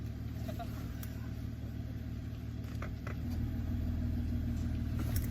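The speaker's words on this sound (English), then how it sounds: "Like, the turbo is loud, but the exhaust is kind of like back there." A turbocharged LS-swapped Caravan drives along, heard from inside the cabin as a steady low engine and exhaust drone with road rumble that swells slightly partway through.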